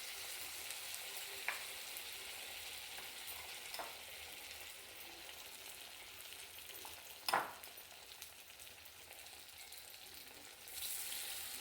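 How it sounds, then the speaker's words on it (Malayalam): Banana fritters (pazhampori) frying in hot oil, a soft continuous sizzle with occasional sharper crackles and a brief stir or scrape near the middle, quiet and without talk. "ഇങ്ങനെ എണ്ണയിലേക്ക് ഇട്ട് കൊടുത്ത് എല്ലാം പൊള്ളിച്ചെടുക്കാം"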